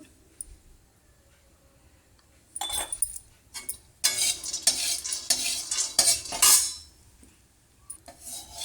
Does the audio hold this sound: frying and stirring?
yes